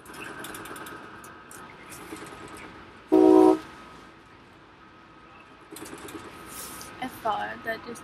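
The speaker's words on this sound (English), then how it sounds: "This train is going to move so fast" Low rumbling of a moving train with rail noise throughout, a loud horn blast partway through, and a voice talking over it.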